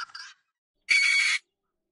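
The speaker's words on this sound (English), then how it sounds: "Guinea fowl." Guinea fowl calling with two short harsh bursts, a brief rasping note followed by a louder, longer grating cry, clear and close with silence between.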